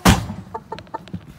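Chickens clucking in a plastic crate, a loud thump or slam at the start followed by several short, close clucks scattered in irregular bursts.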